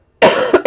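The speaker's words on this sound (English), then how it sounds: "I go into coughing fits." A person with asthma coughs in a short close fit: one long harsh cough followed by two quick sharp ones, loud and alone.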